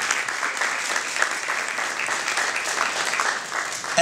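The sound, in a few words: audience round of applause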